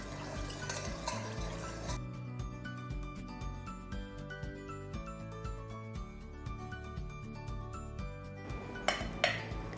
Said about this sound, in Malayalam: ജീരകവും ഉള്ളിയും കൂടെ ചതച്ച് വെച്ചതുകൂടെ നമ്മൾ ഇതിനകത്തിട്ട് മിക്സ് ചെയ്യുക